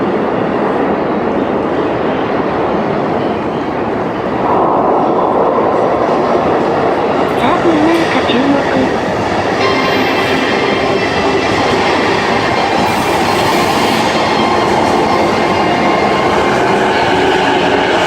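A ten-car train runs through Etchujima station, loud and close with steady rumbling and wheel clatter building over the whole stretch, no talking.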